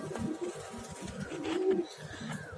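Pigeons kept in a backyard coo in low, throaty, repeated pulses that rise and fall over steady outdoor background noise, with no one talking.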